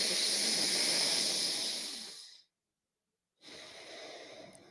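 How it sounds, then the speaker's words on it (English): Slow, deep breathing through the nose during a breathwork session for mountain athletes, close and airy: one long drawn breath fading out, a full pause of silence, then the next breath starting. "Take 2 more deep breaths with me."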